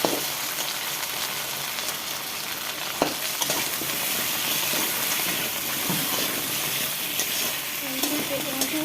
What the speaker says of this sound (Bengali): ওই তেলের মধ্যে আমি কচুগুলো ভেজে নেব